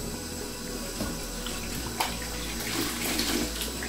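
Tap water runs steadily into a bowl being rinsed of soap while cleaning a telescope mirror, a continuous splashing stream with a few small knocks, close and unaccompanied by speech.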